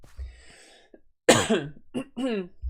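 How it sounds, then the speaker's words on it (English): A person clears their throat with a couple of rough, throaty bursts close to the microphone, after a brief quiet moment. "Sorry, had to clear my throat."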